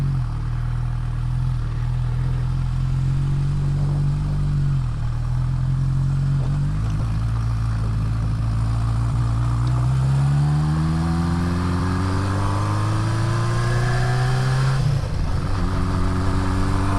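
A Honda CB550 motorcycle engine runs steadily while riding, a loud continuous drone whose pitch climbs and drops with each shift and throttle change, with rising revs toward the end.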